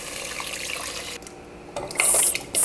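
Running water pours into a cooking pot holding ginger as four cups go in, a steady splash that dips midway and then returns louder and brighter.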